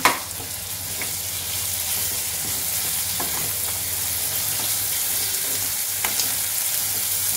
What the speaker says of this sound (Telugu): మంచిగా వేగించుకోవాలి అండి.